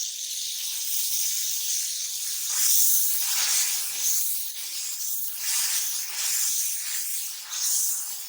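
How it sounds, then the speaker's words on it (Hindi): Masala with a little water frying in a pan, a steady loud hiss and sizzle that swells and eases in waves, close up with no talking. "और हम इनको थोड़ा सा पानी डाल के भूनेंगे।"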